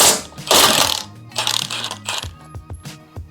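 A ratchet wrench backs out the last bumper bolt on a first-generation Toyota Tacoma, a close run of rapid clicking strokes with metallic clinks and short pauses between pulls.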